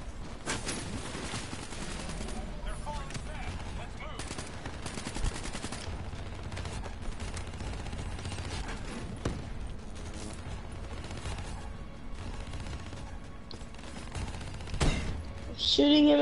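Gunfire in a co-op video game campaign on PS4: steady rattling bursts of automatic shots run almost continuously at a moderate level, ending with a louder flurry.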